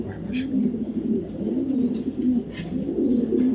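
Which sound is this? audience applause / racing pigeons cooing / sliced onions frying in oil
racing pigeons cooing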